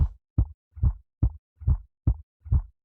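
Heartbeat sound effect in an audio drama, a slow steady series of about seven deep, soft thumps in alternating pairs, isolated and close with nothing else around.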